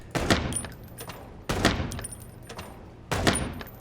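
Three sharp gunshots in the Chicken Police video game, spaced about one and a half seconds apart, each a loud crack with a trailing tail, with faint mechanical clicks between them.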